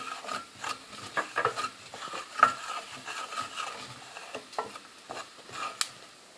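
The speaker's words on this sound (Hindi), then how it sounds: "और अब मैं इसमें ज़ीरा डाल के भूनूंगी" Soft sizzling and scraping of cumin seeds roasting with gram flour in a pan, a utensil stirring and rubbing against the surface in irregular strokes, quiet and close.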